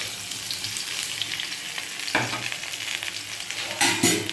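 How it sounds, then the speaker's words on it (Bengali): Potatoes and pointed gourd frying with spice paste in a pan, a constant close sizzle broken by a couple of louder scraping stirs. "আলু পটলটা ভালো করে ভেজে মশলাটা দিয়ে কষিয়ে তাতে জল দিয়ে দেবো।"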